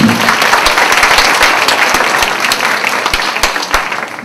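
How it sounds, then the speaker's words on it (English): An audience at a creativity talk breaks into dense, steady applause lasting several seconds, many hands clapping together with a few sharper individual claps standing out. "Round of applause."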